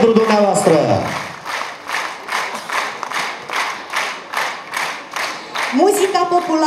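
A folk festival audience applauds the Vânduleț folk dance ensemble with a rhythmic clap roughly every half second, moderately loud. A voice speaks at the start and the end.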